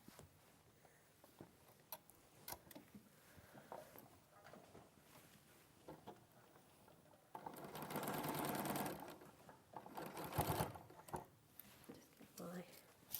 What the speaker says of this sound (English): I'm just going to sew that now